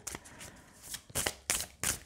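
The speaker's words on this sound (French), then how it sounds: "je prends une carte de la médecine chamanique" A shamanic medicine oracle card is drawn from a deck, a few quick papery flicks and slides close by, with short bursts of card noise and no talking.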